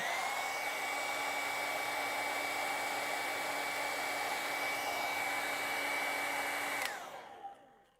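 A hair dryer drying a layer of acrylic paint on a feather painting, blowing with a loud, steady whir close by for about seven seconds before switching off and winding down.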